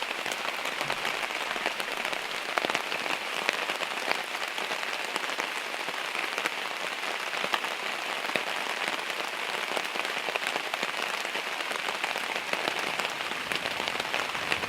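Steady rain pattering on a surface outdoors during a Dutch oven rib cook, a dense continuous hiss of drops holding at an even level throughout with no talking.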